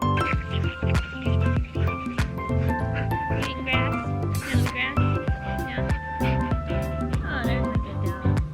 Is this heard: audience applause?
no